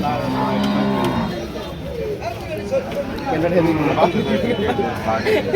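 Cattle moo repeatedly at a busy rural livestock bazaar in Barura, Comilla, with drawn-out bellows rising over crowd chatter as people talk nearby.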